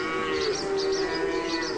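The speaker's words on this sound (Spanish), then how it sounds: "Ahí están otra vez esas malditas vacas." Cattle moo with a long, loud, drawn-out low call that holds steady and wavers slightly, close by and with no voices over it.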